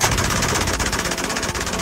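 An MG42 machine gun fires a continuous, extremely rapid burst, individual shots blurring into a loud ripping roar that holds steady for about two seconds without pause.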